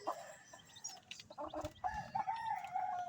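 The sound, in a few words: chicken clucking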